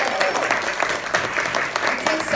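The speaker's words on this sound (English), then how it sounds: "Can we first give a round of applause to Pat, who put all of this together?" Steady applause from an audience at a talk, continuous dense clapping filling the whole stretch with no break.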